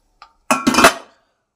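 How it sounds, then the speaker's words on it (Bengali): A small clink followed by a metal stand set down inside a pot and a lid placed on top, brief close metallic clatter and ringing in a kitchen while baking a cake. "আমি এর মধ্যে একটা স্ট্যান্ড বসিয়ে দেবো। উপর থেকে আমি এটা ঢাকনা দিয়ে দেবো।"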